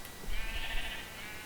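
A sheep bleats once in the video game Minecraft, a short faint bleat over a quiet background with no talk.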